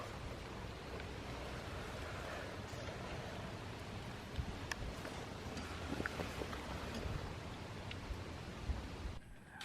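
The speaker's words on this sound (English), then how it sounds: "and now it's raining" Broadband hiss of steady rain with scattered patters and ticks, moderately loud and continuous, with no voices.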